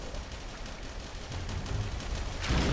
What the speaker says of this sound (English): Whoa, who's shooting? Where's that coming from?